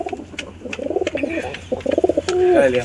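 Pigeons coo in rolling, throaty bursts close by, several calls overlapping in a steady rhythm with a faint outdoor hum beneath.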